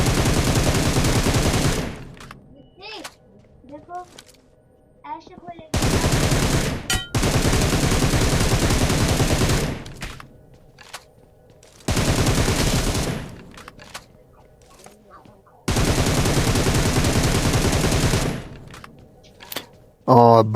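Bursts of automatic gunfire from BGMI, the mobile battle royale game, come in four long sustained volleys separated by brief quieter gaps, loud and close, with faint game sounds between them.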